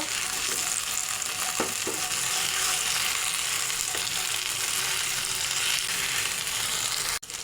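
Fish fries in a pan after being turned over, giving a steady, dense sizzle with a couple of faint knocks near the start and a brief cut at the very end; no voices.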